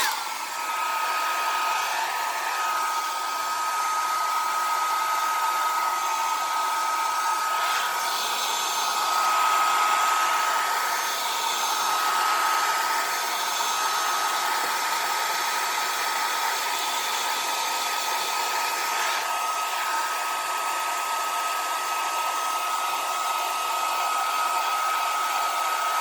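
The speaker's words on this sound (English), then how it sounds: "I'm going to take my hair dryer," A hair dryer blows steadily on alcohol ink for a long stretch, a constant close whooshing hum with a thin whine and no talking.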